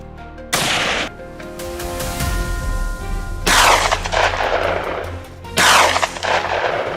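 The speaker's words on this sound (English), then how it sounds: "Chaos erupted as gunfire rained down." Rifle shots crack out during a wild boar hunt with dogs, three loud sharp reports a couple of seconds apart, each trailing into a long rolling echo, with no talk.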